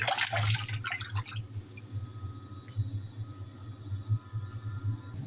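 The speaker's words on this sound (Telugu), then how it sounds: "వాష్ చేస్తాను నేను చికెన్ని" Chicken pieces being washed in water with vinegar, with dripping and sloshing splashes, a louder burst of running water at first, then quieter intermittent drips and trickles close by, no talk.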